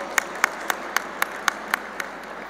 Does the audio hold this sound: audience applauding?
yes